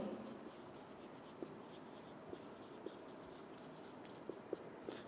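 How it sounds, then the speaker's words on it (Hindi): Writing on a board during a chemistry lecture: faint, steady scratching strokes with occasional sharp taps, quiet and close in a room with low background hiss. "तो मैं इसे कुछ इस तरह लिख दूंगा"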